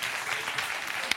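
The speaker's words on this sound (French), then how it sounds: "Moi je la trouve bonne, alors j'applaudis." Brief burst of applause on a French TV quiz show set, a short, dense clapping sound lasting about a second with no talk over it.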